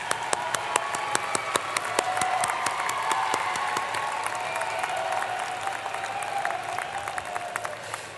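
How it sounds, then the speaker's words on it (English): Graduates at a university spring commencement ceremony give their supporters a sustained round of applause. Many hands clap in a dense, even patter that stays strong for several seconds, with a faint murmur of the crowd underneath. "the graduates give them a round of applause"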